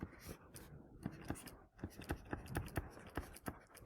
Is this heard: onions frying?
no